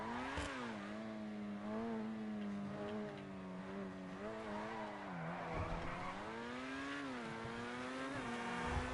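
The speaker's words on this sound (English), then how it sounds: "So now let's hit the road and see what we can do with the Itali GTO." A Grotti Itali GTO sports car in GTA pulls away and accelerates, its engine note climbing and dropping through gear changes in a loud, continuous synthetic roar with no talking.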